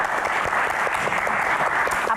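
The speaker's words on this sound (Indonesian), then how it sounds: "Tepuk tangan untuk Axel sebagai" Steady applause from an audience at a Q&A event, sustained and fairly close, a dense wash of clapping filling the whole stretch without pause.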